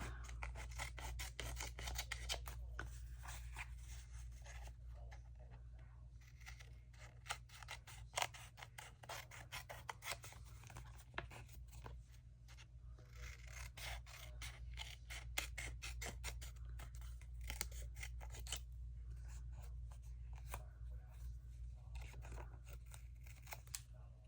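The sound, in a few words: scissors cutting paper for ephemera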